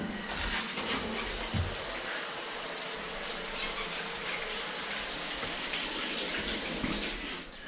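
Water from a Moen shower valve and head runs steadily into a tiled shower with a porcelain mosaic pan, a continuous close hiss and splash that holds the whole time and eases slightly at the end.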